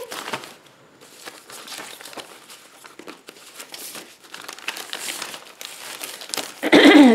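Holly Hobby wrapping paper crumpled by hand, a long run of crinkling and rustling that grows loudest and closest in the final moments.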